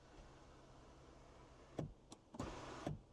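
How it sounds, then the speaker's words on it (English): The electric sunroof of an Omoda E5 EV SUV clicks and whirs open inside the quiet cabin, with a few short mechanical thunks followed by a brief motor hum. "You can get the sunroof that opens."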